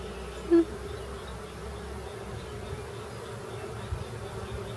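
Honey bees buzz steadily at an open hive during an apiary inspection in a low, continuous drone, with a brief louder tone near the start and faint clicks, no voices.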